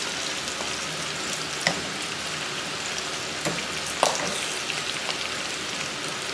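Curry leaves frying in hot oil for a tadka in Hyderabadi khatti daal, a soft, steady sizzle and crackle with a few sharper pops standing out.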